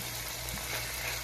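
Beef stirring and frying in about two teaspoons of oil in a pan gives a steady, close, even sizzle with a soft hiss throughout, and no voices over it.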